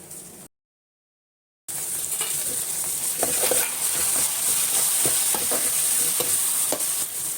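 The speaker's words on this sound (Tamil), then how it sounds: "இப்போ நம்ம இதை வந்து இந்த நம்ம வெங்காயம் தக்காளி வதக்கியிருக்கோம்ல, அது கூட சேர்த்து வதக்கிக்கலாம்." Gongura leaves sauté with onion and tomato in a pan, a continuous close sizzle with repeated stirring scrapes after a brief silent gap, no one speaking.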